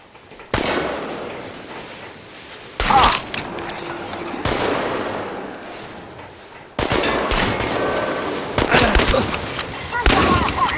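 Gunfire in the video game Chernobylite during a final heist, heard as dense bursts of shots and booming blasts that come and go in loud waves with short lulls between them.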